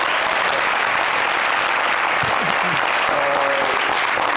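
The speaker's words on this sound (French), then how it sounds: "applaudissez pour vous" A dense, loud wave of crowd applause fills the room at an event in Abidjan, continuous and close, with a voice briefly audible through the clapping.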